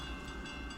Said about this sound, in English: Symbol on that train is CSX Q561.